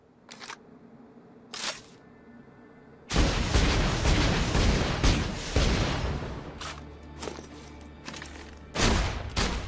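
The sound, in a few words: gunfire against an enemy shield in the video game Borderlands 2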